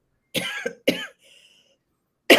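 Two sharp, close coughs in quick succession, followed by a faint wheezy breath and a brief start of another cough.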